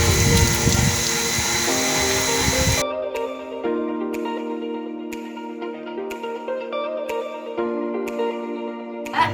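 Tap water runs loudly and close for about three seconds while hands are rinsed up to the elbows at a village wash station, then stops abruptly. Sparse clicks and tonal background sounds follow.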